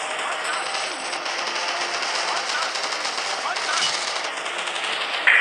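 Rapid automatic gunfire in the Call of Duty: Strike Team video game, a dense continuous rattle that holds steady throughout and ends in a sharp burst.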